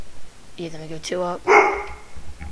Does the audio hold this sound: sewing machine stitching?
no